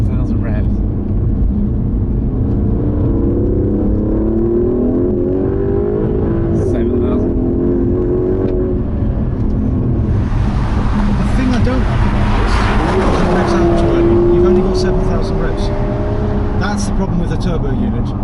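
An Aston Martin DB11 with a turbocharged engine pulling in second gear around 4,000 rpm on a straight, a steady loud in-cabin drone with rising engine tones and wind roar while people talk over it.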